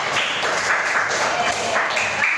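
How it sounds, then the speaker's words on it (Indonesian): A fifth-grade elementary school class claps for a student group, a brief burst of dense, steady hand clapping that fills the room. "tepuk tangan dulu buat kelompok dua ya"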